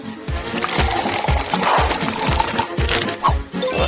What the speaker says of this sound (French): Les pommes de terre sont divisées en morceaux. Puis jetées dans l'huile bouillante.